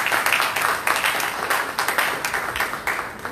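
A church congregation at a Sunday school service applauds together, a dense, steady wash of many hands clapping throughout.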